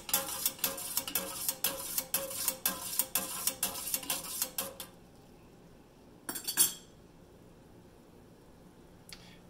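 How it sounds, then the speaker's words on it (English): A metal utensil stirs water in a pot for poaching an egg, clinking rhythmically against the sides in quick repeated strokes, then falls quiet apart from a couple of isolated clatters. "Next step is to stir this to make a little tornado."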